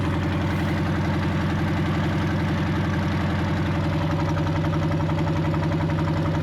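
An old air-cooled VW dune buggy engine, about fifty years old and firing on only three cylinders, runs steadily up close with an uneven, loping clatter and a constant rough drone throughout.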